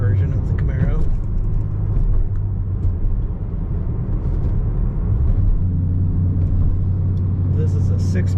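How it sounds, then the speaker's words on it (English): A 2010 Chevrolet Camaro SS SLP ZL575 coupe with a 6-speed transmission drives along, its deep engine rumble steady and loud from inside the car, with a person talking over it. "We're going to take it for a drive. This is the SLP version of the Camaro."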